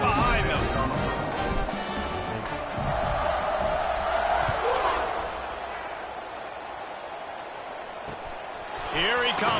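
Stadium crowd roaring and cheering at a college football game between Washington and Purdue as the teams line up for the kickoff, a loud sustained swell of voices with an announcer talking over it.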